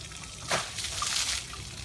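Hose water trickles and splashes while a female elephant is washed, soft and close with a brief louder splatter partway through and no talking.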